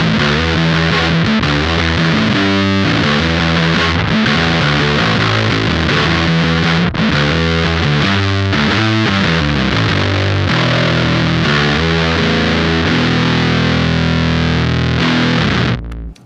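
An electric bass rings loud through a Champion Leccy Dunsh fuzz pedal, thick distorted notes played steadily for about sixteen seconds with no talking.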